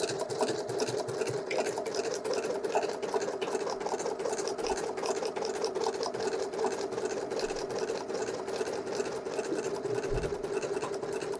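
A Pfaff Creative Icon 2 embroidery machine stitching a basting box runs in a fast, steady, rapid-fire whir of needle strokes throughout, close and continuous, with a couple of faint low thumps.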